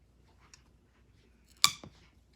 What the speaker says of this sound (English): Cut them very softly or else they're going to fly everywhere.